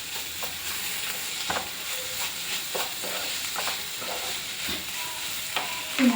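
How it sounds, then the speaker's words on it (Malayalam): Small tomatoes are stirred into egg curry masala frying in a pan. A steady sizzle runs throughout, with clinks and scrapes of the spoon against the pan at irregular intervals. "ചെറിയ തക്കാളിയും കൂടി ഇട്ട് കൊടുത്ത് നന്നായിട്ട് യോജിപ്പിക്കാം."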